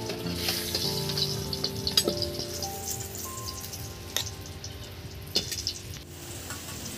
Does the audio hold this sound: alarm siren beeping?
no